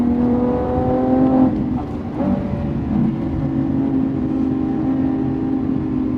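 Lamborghini Revuelto V12 driving on a winding road near Monaco, its engine giving a steady, loud, close drone with harmonic layers that shift slightly as it pulls through a bend.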